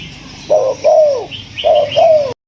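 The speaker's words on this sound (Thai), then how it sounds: "หลังจากที่เราฟังเสียงนกกันแล้ว" A recorded dove coos close and clear, giving two paired phrases of rounded, falling notes separated by a short gap, alone without talk.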